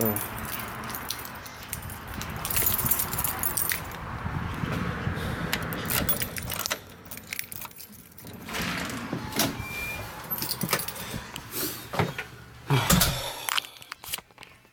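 Metal keys jingle and rattle in bursts, close by, with shuffling and clunks of things being moved around between the jangles.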